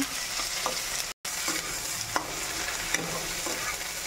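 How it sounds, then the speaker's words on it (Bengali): Chili paste, chopped tomato and ground cumin-coriander paste sizzle steadily in a pan while a spoon scrapes through them in repeated strokes, close and moderately loud, with a brief silent break and no talking. "দিয়ে দিলাম লঙ্কা বাটা, দিয়ে দিলাম টমেটো কুচি। এবার একটু নাড়াচাড়া করে নেব।"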